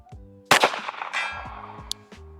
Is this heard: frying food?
no